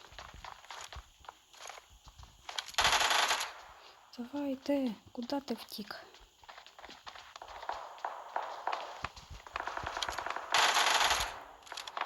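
Rapid bursts of video game gunfire crack in quick succession amid footsteps and clattering, with someone speaking briefly in between.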